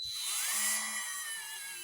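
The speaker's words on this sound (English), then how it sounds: "Set it at 3. I've got the little polishing drum attached." A Parkside 4V cordless rotary tool with a small polishing drum runs on a low speed setting, giving a thin, steady high-pitched whine that swells briefly and then holds level, fairly quiet and close.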